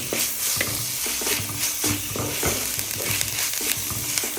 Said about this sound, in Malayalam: ഇഞ്ചിയും വെളുത്തുള്ളി പേസ്റ്റ് ഇട്ടതിന് ശേഷം നമ്മൾ നന്നായിട്ടൊന്ന് ഇളക്കി കൊടുക്കണം